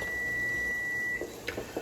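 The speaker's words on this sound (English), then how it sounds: "our timer just went off for our 1 minute" A kitchen timer gives one long, steady electronic beep at low volume while grape jelly is cooked, then it cuts off and faint kitchen clatter follows.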